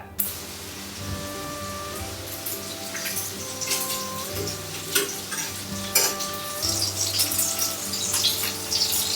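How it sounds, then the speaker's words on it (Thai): Pork ribs stir-fried with chili, garlic, spring onion and dried chili in a pan sizzle loudly and close, with scraping stirring strokes that grow busier toward the end over faint steady background tones. "พอซี่โครงหมูสุกได้ที่เราใส่พริกกระเทียม ต้นหอม แล้วก็พริกแห้งใส่ลงไป"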